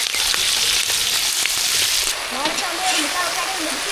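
Mustard seeds, cumin, curry leaves and onion fry in hot oil with a dense, close crackle and spatter. The sizzle is loud throughout, and a bit of stirring adds texture toward the end.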